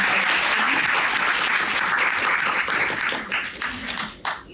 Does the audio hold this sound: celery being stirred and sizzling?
no